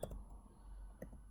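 Calculator keys pressed to enter numbers, with a couple of sharp, quiet clicks at the start and near the end against a low room hum.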